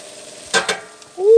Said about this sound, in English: I hear that sizzle, mate, of them onions